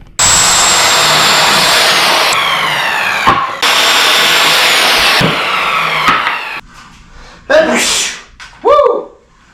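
A loud power saw whines through scrap wood in two long cuts, each ending abruptly, followed by short bursts of excited voices.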